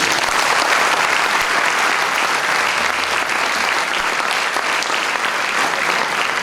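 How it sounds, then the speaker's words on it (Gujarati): An audience at a theatre honoring ceremony applauds teachers, a dense, loud and sustained wash of clapping from many hands that holds steady for the whole stretch. "ચાલો હવે આપણે બધા આદરણીય શિક્ષકો માટે તાળીઓનો ગડગડ આપીએ"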